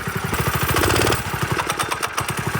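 A small free go-kart engine revving in short, choppy pulses, a close buzzing putter that surges and drops several times like a lawn mower motor.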